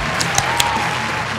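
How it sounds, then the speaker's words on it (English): A live audience at The Charity Strike show claps steadily, a dense sustained wash of applause with a few sharper individual claps, fairly close and loud throughout. "Thank you for the applause, everybody."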